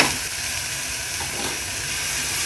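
Steady, loud hissing sizzle from baby shrimp stuffed brinjal sautéing in a pan, a continuous broadband fry noise with no breaks, heard up close and alone.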